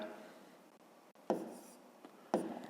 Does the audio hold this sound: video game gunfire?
no